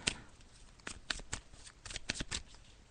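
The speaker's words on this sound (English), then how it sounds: "So I'm just shuffling the cards." Crisp riffling and snapping of tarot cards being shuffled by hand, a series of quick papery bursts at close range, no talking.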